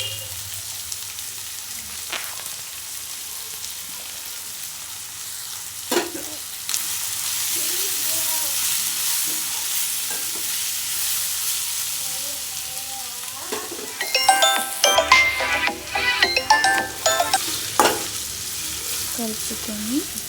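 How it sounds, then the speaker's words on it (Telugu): Tomatoes and garam masala frying and being stirred in a pan, a steady sizzle with bursts of scraping and clattering stirring near the end, no talking. "టొమాటోలు వేసి కలుపుకోవాలి. మళ్ళీ ఇందులో గరం మసాలా కూడా వేసుకోవాలి."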